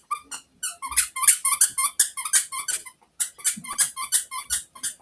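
A small dog squeaking and yipping in rapid, uneven bursts indoors in the early morning, high-pitched and close, with brief pauses between runs of yelps.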